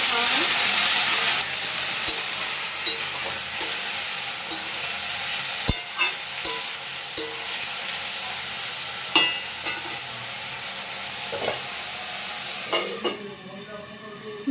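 Potatoes frying in a pan with a steady loud sizzle, punctuated by occasional clicks and taps of a utensil.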